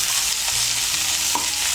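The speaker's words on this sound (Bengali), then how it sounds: "উচ্ছেটাকে মিশিয়ে নেব তেলের সঙ্গে।" Bitter gourd is stirred into hot oil in a pan, making a continuous loud sizzle with soft scraping strokes of stirring throughout.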